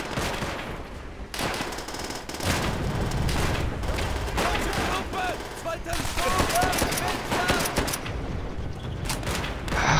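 Rapid automatic gunfire and bursts of shots from the World War II shooter Call of Duty: World at War, dense and continuous, loud throughout, with a few quiet spoken words underneath.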